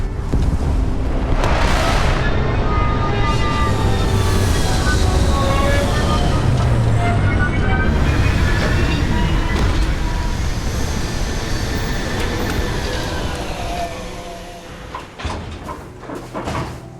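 A spaceship in the game Starfield comes in to land with a loud, continuous roaring rumble of engines and thrusters. The roar holds steady for a long stretch, then fades as the craft settles.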